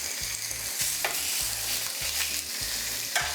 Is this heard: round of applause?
no